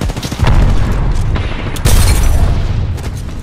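Grenade blasts in a video game, two heavy booming explosions close together, each with a rumbling low tail, loud and close with no talk over them.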